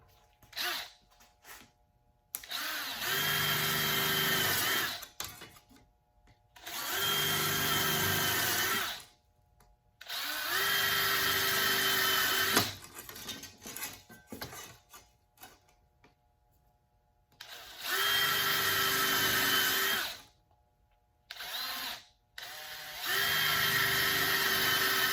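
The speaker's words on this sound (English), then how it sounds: "Now I'm gonna see if I can get in here and try to drill these out real quick." A power drill boring out taillight covers on a Chevrolet Nova project car runs in several loud, close bursts of a few seconds each. Its high whine starts and stops with short quiet gaps between runs.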